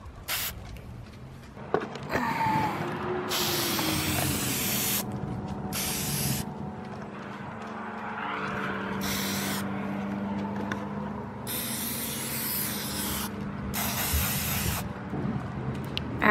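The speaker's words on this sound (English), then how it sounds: "So it says short sprays hold the can about 10 to 12 inches." Aerosol spray paint from a can, used to customize canvas shoes, comes in several short, loud hissing bursts up close, separated by quieter pauses with faint background rustling.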